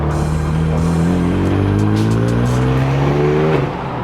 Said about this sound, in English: I've never driven a 335 BMW before, but it sounds really nice